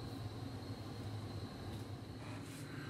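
A steady low rumble and hum of a model train running continuously on a 6.5 by 14 foot layout, with faint mechanical clatter and a high whine throughout, no voices.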